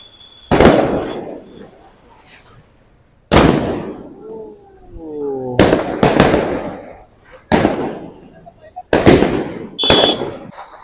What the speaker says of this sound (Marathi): फटाक्यांची आतषबाजी तुम्ही ते बघू शकता.